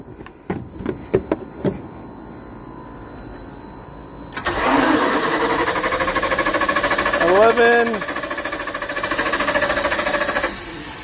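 A Kohler LP emergency generator engine cranks and catches, settling into a steady mid-pitched run with a brief rise in revs, preceded by several sharp clicks and knocks and heard close up.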